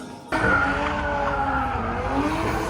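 A car engine roars in abruptly, followed by a long, wavering tire squeal as the car drifts, loud and close.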